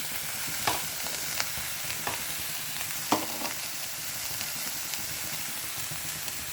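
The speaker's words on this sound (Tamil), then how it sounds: "நல்லா வதக்கிக்கலாம். நல்லா வதங்கட்டும் ஃப்ரெண்ட்ஸ்." Onions sauté in a pan with a steady, moderately loud sizzle and a few sharp clicks of a stirring spoon against the pan.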